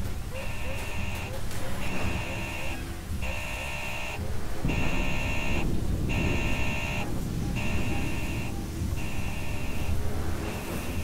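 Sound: alarm system going off in video game Alien: Isolation

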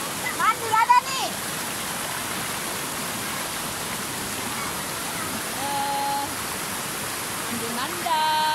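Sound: river stream flowing at Bekok river

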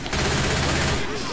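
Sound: gunfire in the video game Left 4 Dead 2

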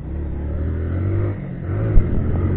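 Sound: motorcycle accelerating while riding

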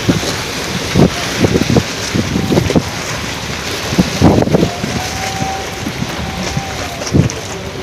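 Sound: strong storm wind at Chandpur boat ghat

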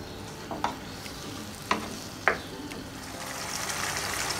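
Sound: stirring chicken cooking in karahi

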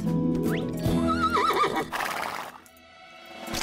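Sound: horse neighing in a cartoon

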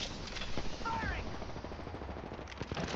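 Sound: gunfire in Apex Legends video game

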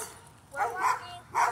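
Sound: dogs barking and jumping

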